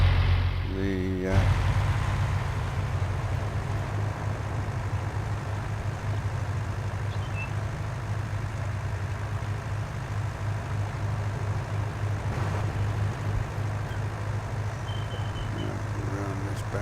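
A Farming Simulator 19 tractor drives along with a steady low engine drone throughout, a short burst of other noise at the very start, and someone talking over the engine.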